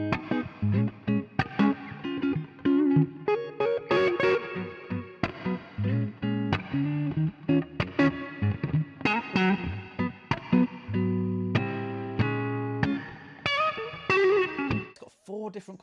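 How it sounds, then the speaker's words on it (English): Electric guitar played through an amp with a heavy digital reverb, sounding as loud, close chords and single-note phrases with some distortion and a long wash of ambience, with a voice talking between the passages. "it says this is a weapons grade digital reverb."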